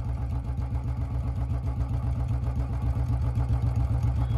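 An old BS3 Royal Enfield Bullet motorcycle idles close by, its single-cylinder engine thumping in a steady, fast, even rhythm with heavy low rumble and no voices.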